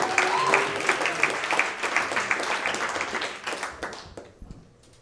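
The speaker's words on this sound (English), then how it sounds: "keep that applause going for your next contestant" An audience at a comedy club applauds with brisk, scattered clapping that gradually thins and fades out toward the end, with a few voices mixed in.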